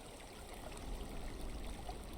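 Steady flowing water from an overflowing pool in the block-building game Creativerse, a soft continuous trickling stream with no voices over it.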